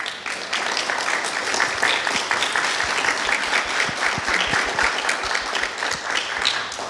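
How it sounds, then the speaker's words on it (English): An audience applauds a panel at a motorsports engineering event, steady, dense clapping that holds at an even volume from start to finish. "Can we get another round of applause?"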